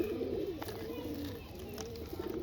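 Pigeons coo steadily in a low, throaty drone while pecking at saved eggshells, the soft rolling calls close and continuous with no voices over them.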